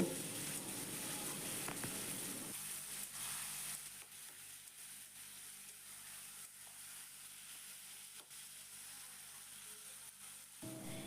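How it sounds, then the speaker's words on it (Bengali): Ridge gourd sizzling in an oiled pan as it is stirred to cook off its released water, with a constant close hiss and occasional soft stirring scrapes, louder at the start. "এটাকে আমি এখন নাড়তে নাড়তে একদম জলটাকে শুকনো করে নেব"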